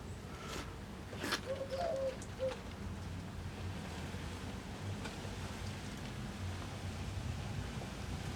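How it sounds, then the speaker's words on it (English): A pigeon-like bird coos briefly near the start, a soft short call set against quiet indoor room hiss with a few faint knocks. "The bird agrees."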